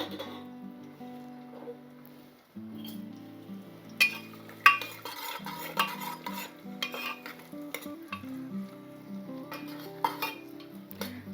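Chopped onion frying in hot oil as a tempering for an Andhra-style mutton curry, a soft sizzle with spoon stirring and pan clinks beneath a steady tonal background, no talking.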